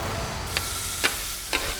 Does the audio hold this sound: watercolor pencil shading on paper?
no